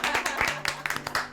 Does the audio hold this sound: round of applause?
yes